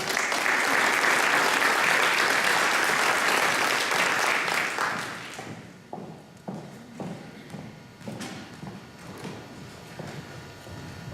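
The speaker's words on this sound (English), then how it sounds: "if we could have a round of applause for Mary" An audience at a school address gives a round of applause for an invited speaker, loud dense clapping for about five seconds that drops off abruptly, leaving sparse footsteps and thumps as someone walks up.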